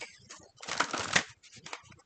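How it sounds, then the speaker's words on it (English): A deck of theme cards being shuffled by hand, a burst of papery riffling and ruffling for about a second with lighter shuffles around it, close and alone without talk. "I didn't get a chance to shuffle this one, so we're going to do this one now"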